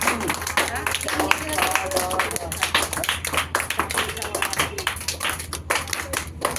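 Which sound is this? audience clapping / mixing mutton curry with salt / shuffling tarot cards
audience clapping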